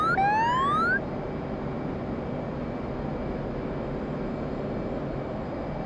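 F/A-18 jet engine climbing after takeoff in the DCS World flight game, a steady broadband roar that holds level throughout, with a brief rising whine at the start.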